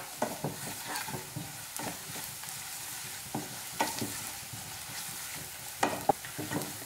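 Spice powders and green chillies stirred in a pan while cooking soy paneer and tofu matar masala, with repeated scraping strokes of a spoon against the pan over a soft, low frying sizzle, close and without talk.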